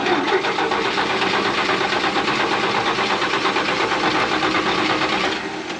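A 1968 GMC C4500 truck's engine cranks continuously without catching, a loud, steady rhythmic starter churn for several seconds that drops slightly at the end.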